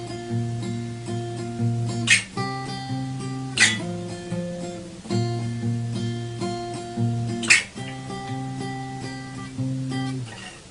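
Plucked guitar chords from a song's pre-chorus ring out in a steady pattern, each chord change marked by a sharper strum, played close and alone.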